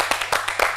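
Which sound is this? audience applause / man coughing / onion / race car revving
audience applause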